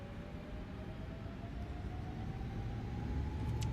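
A steady low engine roar of Airbus A320neo engines at full throttle in Microsoft Flight Simulator 2020, building slightly over a few seconds, with a faint high whine running through it and no voices.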